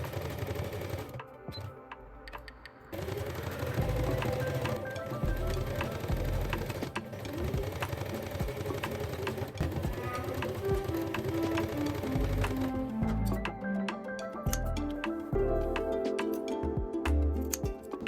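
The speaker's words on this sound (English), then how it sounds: "Stitch on the sewing machine." A sewing machine runs steadily with a fast mechanical stitching whir, continuous and close, pausing briefly near the start.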